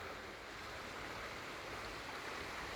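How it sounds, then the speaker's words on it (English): The River Bandon flowing, a steady broadband rush of moving water with no pauses, moderately quiet and without voices. "I'm just going to take you over here to see this river."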